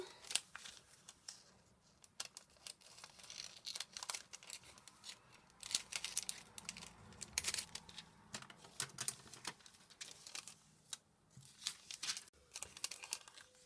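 A small piece of film is cut by hand, giving close, faint crinkling and snipping sounds with scattered sharp ticks and rustles over several seconds, with no speech.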